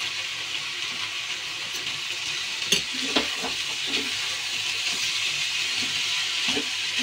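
Sprouted lentils stirred with garam masala in a pan make a steady soft sizzle with intermittent spoon scrapes and clinks, a couple of sharper knocks midway, no voices.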